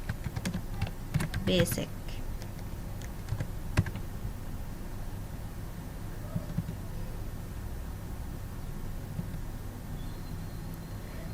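Keystrokes on a computer keyboard click in short bursts during the first few seconds, then taper off, set under a quiet voice at a desk while software is being set up.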